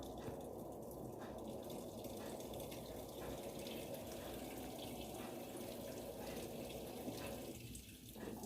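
Water pours steadily into a Panasonic 14 kg washing machine during a dark-clothes wash, a continuous rushing fill that stays fairly even throughout, with a faint voice in the background.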